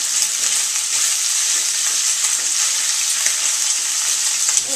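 Chicken sausage and pasta sizzle steadily in a hot pan while being stirred, a dense, close, continuous frying hiss with soft scraping throughout and no talk.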